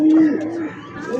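A breeding pigeon with clipped feathers in a home loft gives a close, low, throaty coo that rolls on for about a second and fades.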